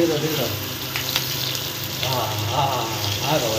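Prawns fry in hot oil in a pan, a steady close sizzle and crackle with a few stirring scrapes, while a voice talks faintly over it.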